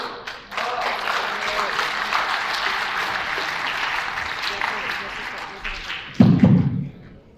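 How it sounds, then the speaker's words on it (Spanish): Sustained audience applause fills a conference hall in Veracruz, Mexico, steady and fairly loud for about six seconds before a few heavy thumps near the end. "que se escuche fuerte ese aplauso"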